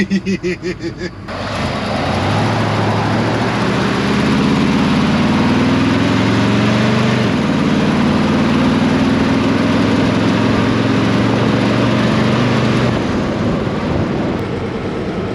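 A tow truck engine idles steadily with a low, continuous rumble, after a few rhythmic knocks at the start; no voices.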